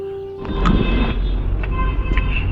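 Train at a crowded Indian railway station, a steady low rumble with a few brief metallic squeals and clanks, heard close and fairly loud with no talk.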